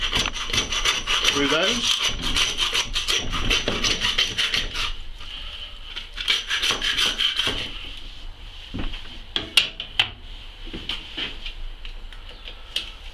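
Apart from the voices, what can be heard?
hand saw cutting through deer pelvic bone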